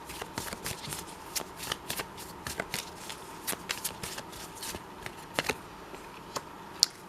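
A deck of tarot cards is shuffled by hand in a rapid run of crisp riffling flutters and soft slaps, steady and close throughout with no talking.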